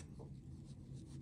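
A pen scratches across paper while sketching a graph of a function, a faint soft scraping stroke over a quiet low room hum.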